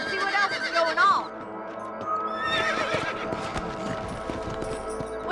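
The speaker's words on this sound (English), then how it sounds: "Let's get back on the horses and see what else is going on." Horses neigh in the video game Red Dead Redemption: a loud whinny up front, then hoofbeats clip-clopping steadily and a second fainter whinny partway through, over low background music.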